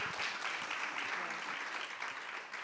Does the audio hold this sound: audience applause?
yes